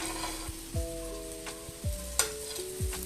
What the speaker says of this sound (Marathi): ती आता पलटी करून घ्यायची एक साईडला ती खरपूस भाजून झाली आता ह्या साईडने घ्यायची भाजून